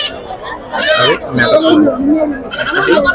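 Goats bleat at the Pebbair livestock market, two loud, wavering cries close by amid a babble of people talking and bargaining.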